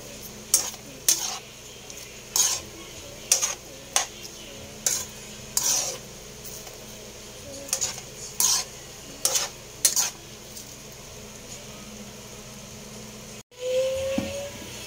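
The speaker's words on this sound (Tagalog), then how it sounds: "Lagay ko na yung sibuyas. Siyempre haluin natin." Onions stirred in a pan while cooking beef steak, with about a dozen sharp, regular scraping strokes of the spoon over a low sizzle. A brief clunk comes near the end, and no one speaks.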